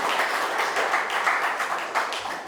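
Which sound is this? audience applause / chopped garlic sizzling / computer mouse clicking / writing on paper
audience applause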